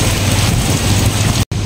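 Steady rain pours outside an old traditional house during a rainy season storm, a dense continuous hiss that fills the clip without pause, close and fairly loud, broken only by a brief cut near the end.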